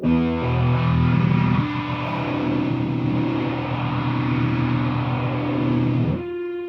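Loud distorted electric feedback from a modded Boss DS-1 distortion pedal drones in sustained, buzzing tones that jump in pitch a couple of times before abruptly dropping off at the end.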